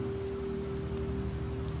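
Rain falls in the video game Wuthering Waves as a steady, even patter and hiss, with a low humming tone and a soft pulsing rhythm running beneath it.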